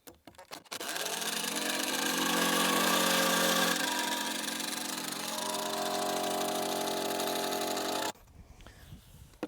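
A power drill driving a screw into a pre-drilled hole, a steady whirring motor run of about seven seconds that stops abruptly, close and loud with no talk over it.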